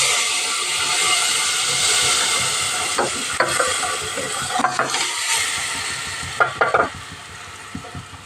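Fried onions being added and stirred into a pan for Telugu fish curry (chepala pulusu), giving a steady broadband sizzle with scraping stirring strokes and clatters growing toward the end, close and fairly loud with no talking.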